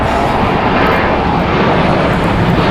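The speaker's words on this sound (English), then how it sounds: "Alaska Airlines flight 1100 going to PVR. It's a Boeing 737-900, correction, 800, 16 years old." An Alaska Airlines Boeing 737-800 airliner at LAX produces a loud, steady jet engine roar that fills the whole stretch with broad, constant rumble and hiss.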